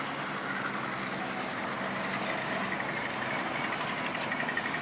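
Two towing tractors sliding a 300-ton module across a construction yard, a steady low engine drone that holds evenly throughout.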